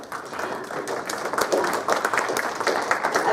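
An audience applauds the speakers after a university panel discussion, a steady wash of many hands clapping that swells slightly as it goes, filling the room without speech on top.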